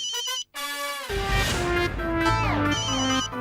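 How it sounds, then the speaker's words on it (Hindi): A loud melodic phone ringtone plays a repeating electronic tune of bright, stepped tones, with no talking over it. "मेरा फोन है, मत उठाना प्लीज"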